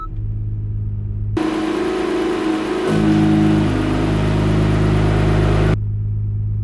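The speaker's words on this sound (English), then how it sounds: "You can hear the actual exhaust note turn down" A 2019 Acura NSX engine idles low, then a loud broadband exhaust roar kicks in under sport plus mode and holds steady for several seconds before cutting off abruptly.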